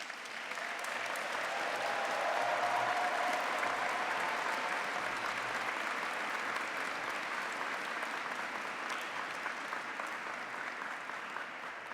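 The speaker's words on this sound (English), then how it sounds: "the graduates really like to show that appreciation with a round of applause" Graduates and guests at a graduation ceremony in St. Paul's Cathedral give a round of applause for their teachers, a broad, sustained roll of clapping from a large crowd that stays steady throughout.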